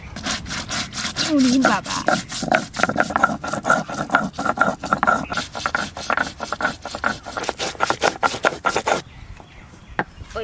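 Coriander seeds are ground on a grinding stone, a close, rhythmic rasping scrape repeating back and forth for several seconds before stopping, with a brief voice heard early.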